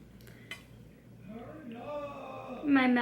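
Foundation and liquid drops being mixed on a metal makeup palette, quiet scraping and clinking of a tool against the metal, with a few sharper taps near the end.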